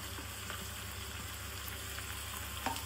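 Chopped tomatoes frying with browned onions for mirchi ka salan, an even crackling sizzle with faint pops, steady and close.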